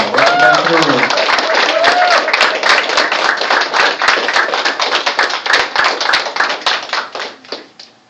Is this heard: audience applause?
yes